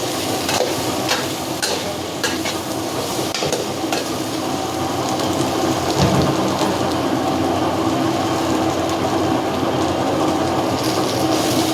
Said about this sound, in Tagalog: maririnig na naman sa sa video yung tunog ng kalan.